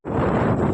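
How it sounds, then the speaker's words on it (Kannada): Strong wind roars steadily into an outdoor microphone on a cold evening near a temple, a dense continuous buffeting rush that fills the short moment without a break. "ಅಷ್ಟು ಕಷ್ಟ ಗಾಳಿ ಬರ್ತಿದೆ"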